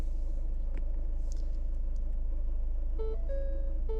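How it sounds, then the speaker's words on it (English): A car engine idles with a steady low rumble throughout, with a few short electronic warning chimes sounding near the end, close and alone without talk. "the first thing that we're going to do is start up the car"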